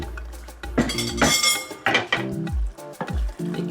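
Okra stew with shrimp and crab being stirred in a pot, a spoon clinking and scraping against the metal in repeated close strokes amid soft bubbling.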